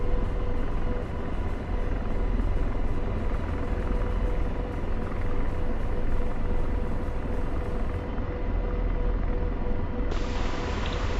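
Steady, loud broadband rotor and turbine drone from an Apache helicopter in the DCS World flight simulator, continuous for the whole stretch with a sharp brighter hiss added near the end.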